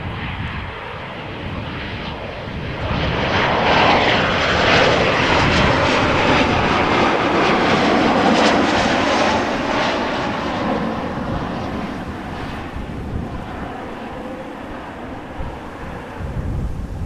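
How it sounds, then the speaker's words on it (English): A KLM Embraer 190 jet arriving from Leeds at Amsterdam Schiphol gives a loud, steady engine roar that swells in the middle and holds, then eases slightly toward the end, with no voices. "This is KLM flight 1540, Embraer 190,"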